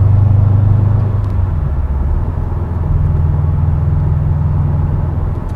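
A 2016 Subaru WRX STI on newly installed wheels cruises along a road at about 45 mph, giving a loud, steady low engine and road rumble with no talking.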